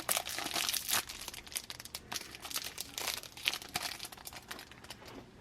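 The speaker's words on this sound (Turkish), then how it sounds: "Hemen lol bebeğimizin 7. poşetini açalım." Plastic blind-bag packet of an LOL doll being torn open, a dense run of close crinkling and rustling that continues steadily with sharp tearing crackles throughout.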